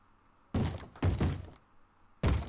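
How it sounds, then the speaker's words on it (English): Three heavy, muffled thuds from Minecraft zombies pounding on a wooden door in a game village, each a dull broad impact lasting about half a second, with short pauses between them and no talking. "I hear them knocking."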